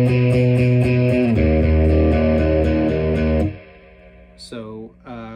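Electric guitar played with big downstrokes through the boost side of a Box of Rock pedal with reverb on, ringing full chords loud and sustained for several seconds, then decaying to quieter single notes and a short picked phrase.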